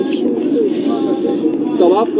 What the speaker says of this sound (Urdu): یہ جو آپ اڑتے ہوئے کبوتر دیکھ رہے ہیں